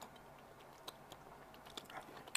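Fruittella chewy candy being chewed in the mouth, soft sticky smacks and a few sharper clicks spread across a quiet moment.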